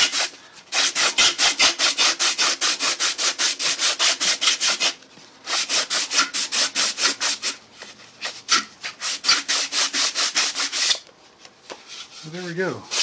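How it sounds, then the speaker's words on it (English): Sandpaper rubbed by hand to rough up a surface before spray painting, heard as rapid, even back-and-forth scratching strokes in two long close bursts with a short pause between them. "Roughing up with sandpaper should provide us with a surface that our spray paint can stick to."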